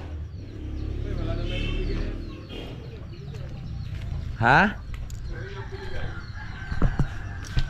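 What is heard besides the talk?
labuyo (wild junglefowl) clucking and crowing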